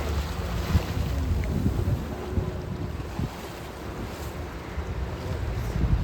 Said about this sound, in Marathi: तशीच आपली बोट देखील दोन खडकांच्या मधून जाणार आहे.